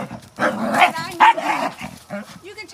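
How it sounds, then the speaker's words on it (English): A dog barks several times at close range in short, uneven bursts during a heated outdoor argument between neighbors, with people talking over the barks. "Aiden, take your barking f*** in the house"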